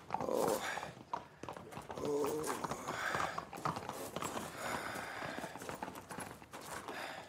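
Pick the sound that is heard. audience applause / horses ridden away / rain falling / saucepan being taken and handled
horses ridden away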